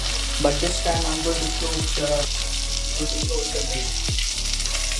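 Tuna fish sizzling and frying in a pan, a steady close hiss with occasional stirring scrapes, a voice speaking briefly over it.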